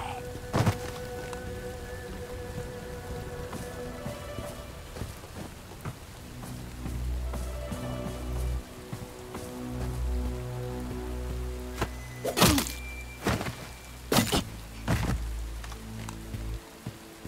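Rain in the action game Bright Memory: Infinite, falling during a stealth mission: a steady hiss of rainfall on surfaces with low rumbles underneath and several sharp thuds and cracks breaking through in the second half.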